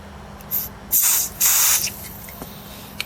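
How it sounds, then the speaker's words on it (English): Freezer spray sprayed onto Atari 65XE keyboard plastic, three short hissing bursts, the last one longest, close and clear against a quiet background. "get some freezer spray onto it, because it will contract"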